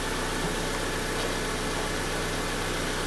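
A 2003 Honda Civic EX engine idles steadily during a tune-up, giving a continuous low, even hum with a faint vibration, loud and close, with no talk over it.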